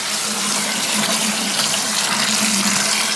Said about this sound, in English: Plug the pump in